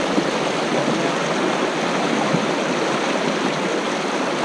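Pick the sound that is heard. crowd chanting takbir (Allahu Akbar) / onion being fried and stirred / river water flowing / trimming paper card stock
river water flowing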